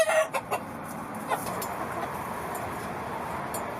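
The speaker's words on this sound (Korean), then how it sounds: "구사일생 목숨을 구한 닭은 9마리." Chickens that survived a feral dog attack clucking softly in a farm enclosure, a few short calls standing out at first before settling into a low continuous background murmur.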